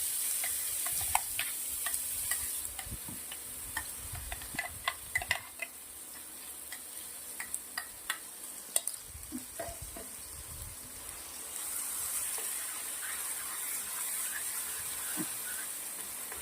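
Raw mango chutney paste fries in a pan with mustard seeds, fenugreek and curry leaves while a spoon stirs it, giving scattered scraping clicks over a steady soft sizzle. A stronger hiss rises toward the end.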